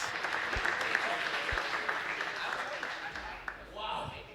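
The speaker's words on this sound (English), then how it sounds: "Give them a round of applause." An esports audience applauds a playoff champion team steadily, a dense wash of clapping that fades slightly toward the end, with voices faintly mixed in.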